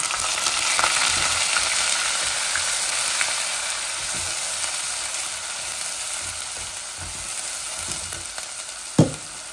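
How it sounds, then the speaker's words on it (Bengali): Onions fry in hot oil with a steady, dense sizzle that holds throughout, joined by a few soft stirring ticks and one sharp clatter near the end. "আমার তেলগুলা গরম হয়ে গেছে, এখন আমি পেঁয়াজগুলা দিয়ে দিচ্ছি"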